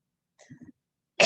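A single sharp cough bursts out at the very end, loud and close, after a brief faint throat sound and near silence.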